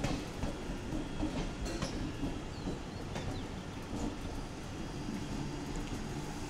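A Mumbai local train rumbles past continuously, a loud dense roar with faint rattling, heard from a nearby balcony with no talking.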